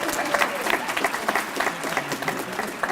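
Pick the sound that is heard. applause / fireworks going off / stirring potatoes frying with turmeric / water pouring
applause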